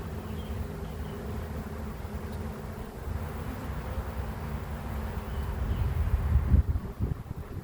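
Honeybees in a blue nuc hive give off a dense, continuous low roaring buzz close to the microphone, swelling louder toward the end, with no voices.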